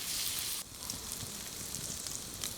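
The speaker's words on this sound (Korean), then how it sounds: "지글지글하죠. 이게 소리도 맛있는 그런 삼겹살." Pork belly sizzles on a grill with a dense, steady crackling hiss of fat, loud and close, which drops slightly in level partway through but keeps spitting, with no voices.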